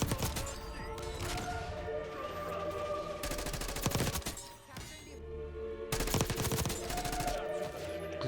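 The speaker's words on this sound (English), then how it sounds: "Enemy sniper shooting." Bursts of rapid enemy sniper and automatic gunfire from a first-person shooter video game, loud and near, in several dense volleys separated by short gaps over background game music, no speech.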